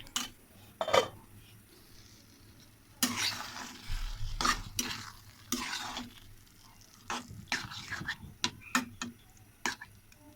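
Taro greens and shrimp fry in a pan with tamarind, five-spice and tomato, as a spoon scrapes and turns them in repeated bursts over a low sizzle. A faint, low voice murmurs at times.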